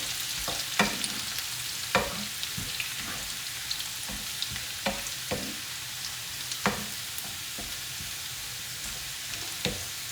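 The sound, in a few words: stirring garlic sautéing in a pan for mango pickle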